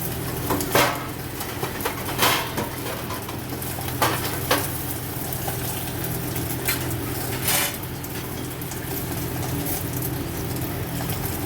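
Green chilies and garlic cloves fry in a pan with a steady close sizzle, broken by a few short bursts of stirring and utensil clatter.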